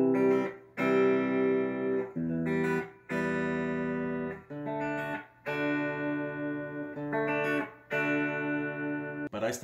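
Guitar chords from the pre-chorus of a song, played as long sustained strums with brief gaps between them, full and ringing up close with no voices.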